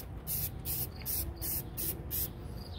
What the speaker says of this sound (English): I just spray a tiny little bit on there,